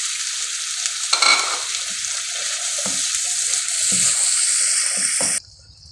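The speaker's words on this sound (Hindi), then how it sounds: "इस तरह मसाला मिक्स करेंगे" Spiced masala of ground cumin with a splash of water is stirred in a hot frying pan, a steady loud sizzle with scraping strokes, before the heat cuts out abruptly at the end.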